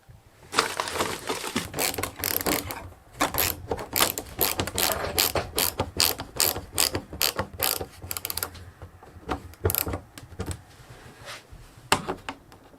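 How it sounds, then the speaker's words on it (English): A hand ratchet drives a screw into a tough fiberglass-layered ceiling, giving rapid runs of sharp clicking strokes in bursts with brief pauses, loud and close. "We're going to screw this to the ceiling."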